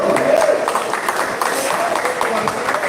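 Audience applause at an anniversary celebration for an IBF chapter in South Sumatra, a steady dense patter of clapping from a sizeable crowd, loud and continuous with a voice briefly mixed in near the start.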